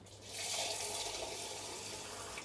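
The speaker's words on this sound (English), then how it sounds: "I'm just using tap water, but ideally filtered water." Tap water gushes steadily from a faucet into a container, a close, continuous hissing splash with no voices.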